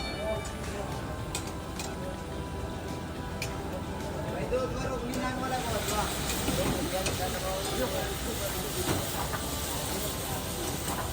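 At a food street stall, chicken fries in a karahi pan for Peshawari karahi, giving off a loud, steady sizzle and crackle close by with a dense hiss that thickens in the second half.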